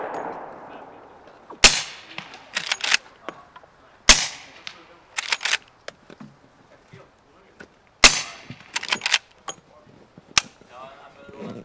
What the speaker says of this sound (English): test with a good mic and 38 special out of this Marlin with a suppressor.